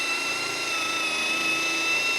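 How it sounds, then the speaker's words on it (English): A Hart impact driver drills quarter-inch pilot holes, giving a steady high-pitched whine with a constant buzzing motor tone throughout, close and with no talking. "Drilling some 1/4-inch pilot holes."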